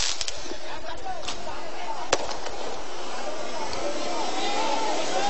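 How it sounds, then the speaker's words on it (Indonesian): Sharp firecracker bangs pop intermittently amid a noisy crowd clashing with police during an eviction, with one louder crack standing out over a constant roar of voices. "Bahkan dari pihak warga sendiri telah melempar petasan ke arah Satpol PP"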